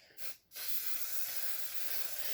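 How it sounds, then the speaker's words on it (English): Steady close spray hissing from an aerosol or pump bottle onto a charcoal and pastel painting, starting after a couple of brief short bursts and continuing without a break. "So let's just spray all this."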